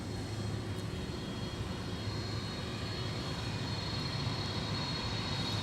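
A McDonnell Douglas MD-11 at MSP airport makes a steady, broad engine roar that holds at an even loudness throughout, heard from some distance with no talking.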